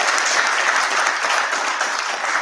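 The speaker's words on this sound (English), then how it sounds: "I'd like us to applaud him for that" An audience at a high-level seminar on manufacturing breaks into dense, sustained applause, loud and steady throughout with no pauses.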